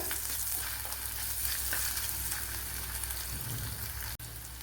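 Ginger garlic paste sizzles in a frying pan with fennel seeds, a loud, dense, continuous crackling hiss close by, with a brief scrape near the end.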